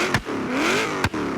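Street-exhaust car engine in Forza Horizon, with two sharp gear-shift pops on either side of a single rising rev, fairly loud and close.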